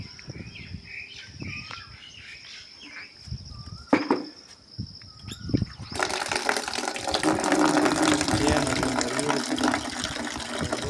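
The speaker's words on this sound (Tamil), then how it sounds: "ஒரு தண்ணி ஊற்றலாம்." Water poured from a container onto young henna and cowpea plants in a home garden, a broadband gushing splash that starts suddenly and runs steadily for several seconds, following quieter outdoor ambience with birds chirping and brief clanks.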